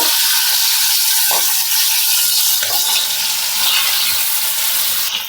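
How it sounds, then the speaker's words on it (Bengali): Marinated fish frying in hot oil for a Bengali fish curry, a loud, continuous dense sizzle close by with a couple of faint clinks, no voices. "এখন দিয়ে দেব আর এগুলোকে হালকা করে ভেজে নেব"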